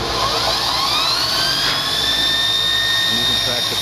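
A Kalamazoo Industries 2FS72 2x72 belt grinder runs steadily on a motor with an 8-inch contact wheel, giving a loud continuous whine with rising high tones as the belt comes up to speed.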